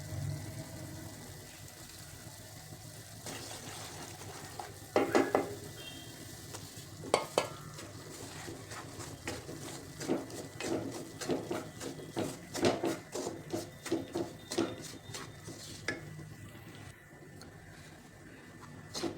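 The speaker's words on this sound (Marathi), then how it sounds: "ह्याला लो फ्लेमवरती छान असा मिडियम टू लो फ्लेमवरती छान भाजून घ्यायचं" Moong dal semolina roasting in a pan for halwa over medium-low flame: a soft dry sizzle with frequent rhythmic scraping stirs of a spatula, close and moderately quiet, with no talk.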